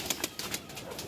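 Soft cooing of a Punjabi pigeon, a series of brief muffled pulses repeating at a steady rhythm, close by and fairly quiet.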